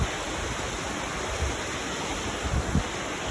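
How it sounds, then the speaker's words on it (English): Roaring Springs Creek in the Grand Canyon rushes beneath a bridge, a steady broadband roar of flowing water close by, with no voices over it. "I'm going over that Roaring Springs Creek"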